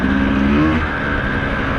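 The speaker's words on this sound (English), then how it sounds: "So we're on a Sherco 300 2020 Factory Edition." 2020 Sherco 300 Factory Edition trail motorcycle engine, a loud close buzzing drone that stays fairly steady over a short stretch, with no voices.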